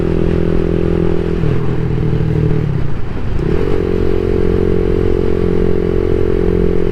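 A CSC SG250 motorcycle fitted with a MotoCult Stage 4 engine kit is heard while riding, with a loud, steady engine drone close to the microphone, a brief dip and gear change partway through, then a smooth pull back to a constant pitch.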